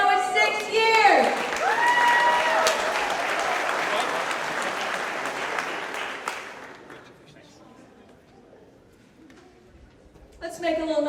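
An audience at a workplace anniversary celebration claps in a sustained burst of applause that fades out, with a voice over a loudspeaker at the start and again at the end.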